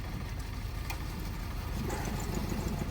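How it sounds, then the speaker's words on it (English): A 2006 Nissan Altima's engine runs at a steady idle after starting, with a low rumble and faint outdoor noise at a police vehicle auction. "This is going to be a 2006 Nissan Altima. Started up, moved it forward"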